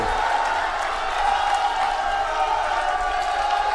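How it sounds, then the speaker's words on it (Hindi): A large political rally crowd in Jhajjar clapping loudly, a dense continuous roar of applause mixed with cheering and whoops, and a voice carrying over it. "ताली बजाओ अरविंद जी के लिए जोर से।"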